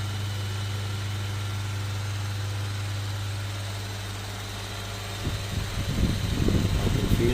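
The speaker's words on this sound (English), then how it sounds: "The pump is working." A pump runs in a DIY liquid immersion cooling setup for a crypto mining rig, giving a steady low hum with a constant tone, and louder irregular bubbling or rattling builds in toward the end.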